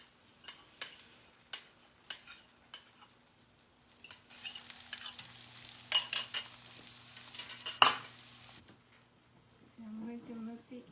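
Beaten eggs for a Mexican-style chorizo omelette hit a hot frying pan, preceded by several light utensil taps, then a bright, crackling sizzle with scraping strokes as they are pushed around; a brief voice follows at the end.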